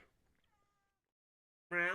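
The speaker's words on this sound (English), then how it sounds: "What you meowing about?" A cat meows once, loud and close, at the end of a short quiet stretch in the Apollo Justice Trilogy video game, preceded by faint game tones.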